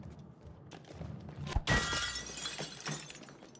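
Glass shatters loudly in the video game It Takes Two, a sharp crash followed by a tinkling, ringing tail over a low background of game ambience.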